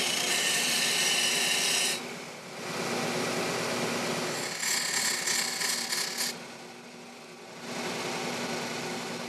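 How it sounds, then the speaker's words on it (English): A threaded bolt is ground into a cone-shaped head against a sander, giving a steady, close rasping whine in three long bursts separated by short pauses, with no talking. "turn your threaded bolt along a sander and allow it to get that cone head"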